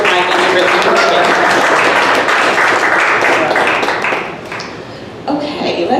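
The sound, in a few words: audience applause for photographer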